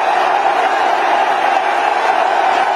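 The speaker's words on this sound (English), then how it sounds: "You can hear the crowd. They're screaming for their favourite, the little master." Dense, steady roar of a huge cricket stadium crowd in Mumbai screaming and cheering for Sachin Tendulkar during his last Test innings, a continuous wall of voices with no break.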